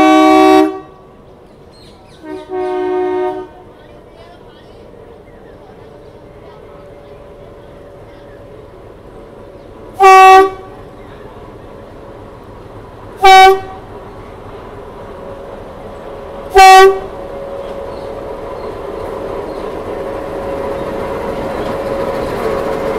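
A metre gauge train on the Mavli Marwar ghat section in Rajasthan sounds its horn in several short, loud toots, two close together at the start and three more spaced a few seconds apart, over a low steady rumble.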